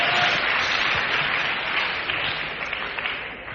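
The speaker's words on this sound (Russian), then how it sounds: "Дай аплодисменты кому-нибудь" Congregation applauding in a church service, a steady wash of many hands clapping at moderate volume that slowly tapers off, with no talk over it.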